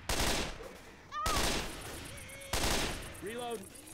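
A burst-fire gun in the zombie shooter Left 4 Dead 2 rattles out three loud, close bursts in quick succession, each a short cluster of shots, with voices and game tones sounding in between.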